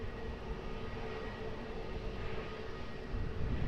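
An airliner rolls for takeoff on runway 20 at Lisbon Airport, a steady distant jet roar with a broad low rumble that swells a little louder near the end.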